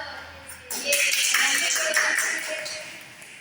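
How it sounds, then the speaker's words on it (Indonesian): A class of children clap together in a classroom lesson, a dense burst of hand claps that swells quickly, holds for a couple of seconds, then tapers off, with a faint voice underneath. "Kasih tepuk tangan dulu untuk Dama dan Mika."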